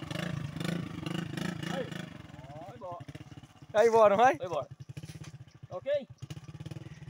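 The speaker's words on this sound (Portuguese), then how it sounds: "Liga a moto aí, rapaz, empurrar." Motorcycle on a muddy road, its engine idling in a low pulsing rhythm and then revving in sharp bursts, with people talking over it.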